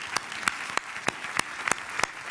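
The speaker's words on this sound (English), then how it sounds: "I would like to give a big applause to all the daring people who organized this" Applause at a book launch event, a steady crowd patter broken by a regular series of sharp, louder claps roughly every third of a second, with no speech over it.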